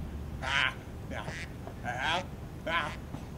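A duck gives four loud, raspy quacks in a row at close range, evenly spaced over a few seconds, with a low rumbling background beneath.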